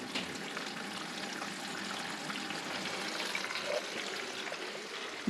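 Water trickles steadily as it is drawn out of a biOrb aquarium during a partial change, a soft continuous dribble at close range with no talk.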